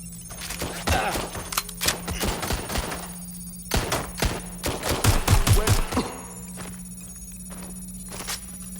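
In the video game Watch Dogs: Legion, sharp bursts of gunfire crack out in irregular volleys, with rapid automatic strings and single shots over a low electronic hum, then calm to sparse sounds.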